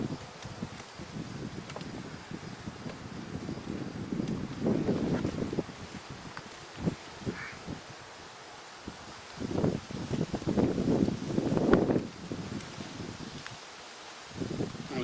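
Breezy wind blowing outdoors by beehives, uneven gusts buffeting the microphone in low rushing swells that rise and fall over a quieter background, with no talk.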